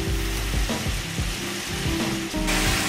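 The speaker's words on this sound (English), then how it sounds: "Now, let's take our lamb back into our pan." Lamb going back into a hot pan for a saffron lamb stew, sizzling and frying loudly and steadily throughout, with stirring scrapes and no talking.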